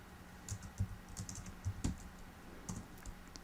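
Soft keyboard typing on a computer keyboard during drafting software input, a quick irregular run of light key clicks, close and quiet with no voices.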